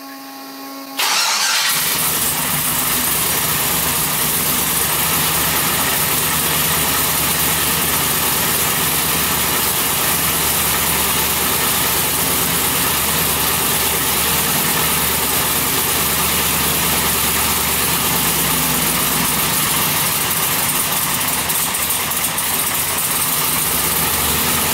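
A car engine with a suspected zero-compression cylinder and tuliped valve fires up, then idles steadily and loudly while warming up, a constant rough drone close by with no talk over it.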